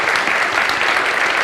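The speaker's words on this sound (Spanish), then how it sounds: "Wow, un aplauso," Audience applause at a motivational talk by Yokoi Kenji, a short, dense and even burst of clapping that holds steady from start to end.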